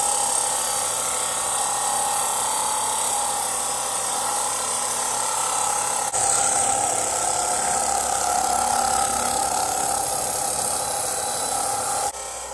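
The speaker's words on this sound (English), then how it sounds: "while I'm at the grinding process over on the belt sander, I'm gonna put a 90 degree spine on the back of the machete" A belt sander grinds a 90-degree spine onto the back of a machete, a loud continuous abrasive whine that shifts slightly in tone partway through before cutting off near the end.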